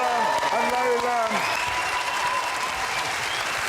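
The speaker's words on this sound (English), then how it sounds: "Give him a big round of applause." Audience applause for performers on a television game show, a loud dense burst of clapping with voices over the first second, then steady applause fading slightly.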